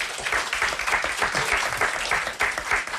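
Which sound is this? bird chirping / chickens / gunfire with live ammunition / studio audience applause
studio audience applause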